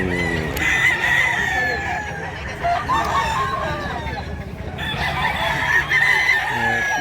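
Roosters crow over a steady background of clucking hens, with several overlapping calls from birds at varying distances throughout.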